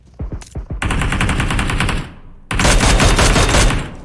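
PUBG Mobile gunfire: a few separate close shots, then a long sustained automatic burst, a brief pause, and a second loud continuous burst, with no talk over it.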